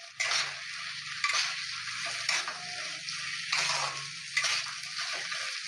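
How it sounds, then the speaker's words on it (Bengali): Fried potatoes being stirred back into a soft spice paste in a pan, broad bursts of frying hiss rising and falling with each push of the spoon, close and clear, no talking. "ভেজে রাখা আলুটা আমি এই মশলার মধ্যে আবারও কষিয়ে নেব"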